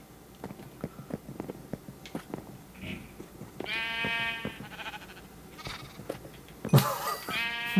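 Minecraft sheep bleat twice, drawn-out and quavering, among rapid soft footsteps and clicks, followed by a sharp burst of noise near the end.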